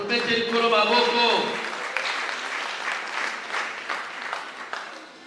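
A church congregation breaks into loud, sustained applause, a dense wash of clapping that carries on steadily for several seconds, with voices rising underneath at the start.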